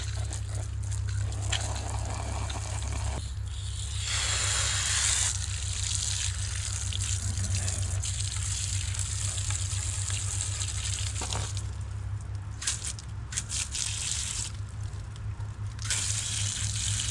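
Steady running water rinses out a Wybot pool cleaner robot, a continuous close hiss and splash that holds for about seventeen seconds with small shifts in spray, with no talking.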